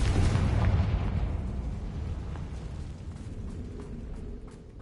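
A Confringo blasting spell goes off in Hogwarts Legacy: a loud, booming burst opens, followed by a rumbling decay that fades over several seconds, with no talk over it.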